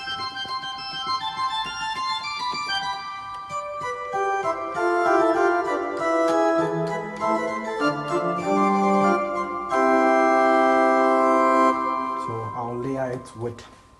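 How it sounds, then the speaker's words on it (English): A keyboard's sustained organ principal tone plays a slow hymn sequence of held chords and moving notes, steady and full, without any voices. "So the organ principal sounds like this."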